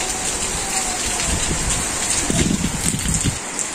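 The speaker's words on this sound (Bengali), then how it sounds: "অমনি বৃষ্টি নেমে যাতে থামেই নেই" Steady rain pattering on a surface in a Bangladeshi village, dense and close, with a few louder drops and gusts mixed in.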